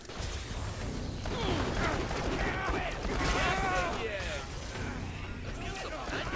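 Jakobs Maggie pistol shots in Borderlands The Pre-Sequel, fired amid a dense, loud mix of combat noise and clatter that stays steady throughout, with a voice talking over it.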